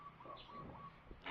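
Bird calling near a house roof under repair, a few soft coos or chirps, faint against background noise.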